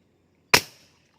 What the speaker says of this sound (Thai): จะยิงนะครับทุกคน